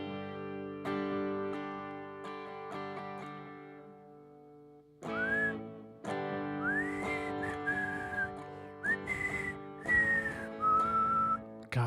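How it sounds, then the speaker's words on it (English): A person whistles a song, a wavering, slightly pitchy melody heard close and fairly loud over a backing tune playing underneath. "I'll try to whistle"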